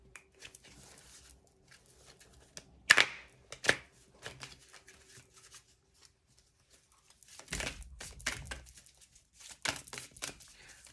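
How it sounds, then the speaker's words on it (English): Large oracle cards are shuffled in a few soft, scattered bursts of riffling and slapping, quiet with pauses between. "These cards are hard. They're so large, and they're a little bit awkward to shuffle."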